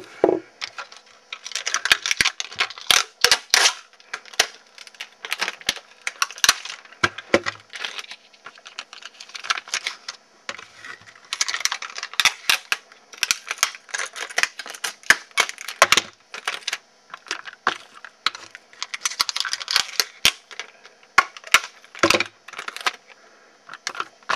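Tape crackles and tears as strips are laid over the face of a Metalcore wheel. Dense, irregular crinkling and ripping goes on steadily up close, with no voices.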